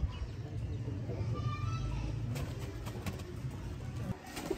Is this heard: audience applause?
no